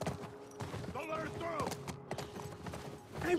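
Horse hooves clip-clop amid a tense chase in a post-apocalyptic drama, with shouting voices over the hoofbeats, creaks and scuffles throughout.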